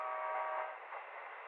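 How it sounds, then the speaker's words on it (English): Train in the emergency dispatcher game 112 Operator, a sustained horn-like blare with a steady rumbling roar, loud and continuous before easing slightly, band-limited as if heard through a phone line. "The train is approaching."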